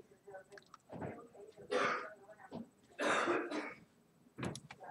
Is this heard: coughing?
yes